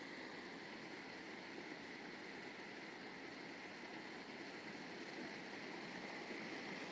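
A constant, even rush of running water along a man-made canal hisses at a low level, steady and unbroken throughout.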